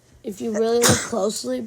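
A single sharp sneeze bursts out in the middle of a casual podcast conversation, loud and close, with people talking just before and after it.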